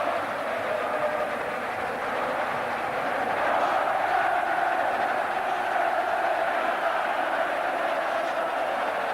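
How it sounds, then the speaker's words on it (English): Large football crowd at the 1982 FA Cup Final replay between Tottenham Hotspur and Queens Park Rangers, the QPR supporters roaring a send-off for their team; a steady, distant wash of cheering that swells slightly midway and never lets up. "Queen's Park Rangers crowd giving their team a marvellous send-off."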